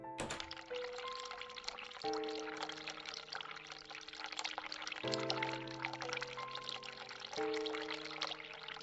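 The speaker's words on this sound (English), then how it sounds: "So if we turn on the cold water." A cold water tap runs steadily into a sink in a dark adventure game, a continuous hissing pour under quiet, sustained musical tones that shift every few seconds.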